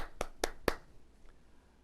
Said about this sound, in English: Let's give Hong Kong a round of applause